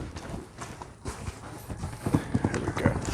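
A horse's hooves clip-clop on the ground as it is handled, the steps growing louder and more frequent toward the end, close by with faint background noise.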